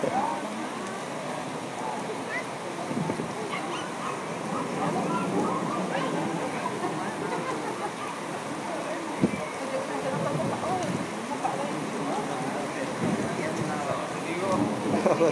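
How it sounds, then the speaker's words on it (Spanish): Steady, dense rush of heavy rain pouring down in Chihuahua, continuous and fairly loud throughout, with no talking over it. "ahora sí que ya llovió"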